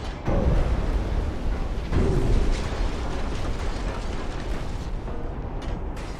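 Torpedo hits on a warship in the naval game Ultimate Admiral Dreadnoughts: loud, dense explosive roar with heavy booms near the start and around the two-second mark, sustained rumbling blasts filling the whole stretch.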